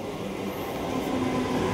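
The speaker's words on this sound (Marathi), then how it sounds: "लोकल ट्रेन आलेले आहे विरारला जायला" A local train pulls into Vasai Road station with a short burst of steady, loud rolling rumble and a faint high metallic whine from the wheels.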